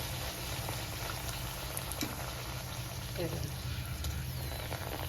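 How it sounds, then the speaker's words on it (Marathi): Pumpkin puris fry in hot oil, a dense steady sizzle and bubbling close by that holds at an even level throughout. "तेल तापलेले, तेलामध्ये एक एक पुरी टाकायची."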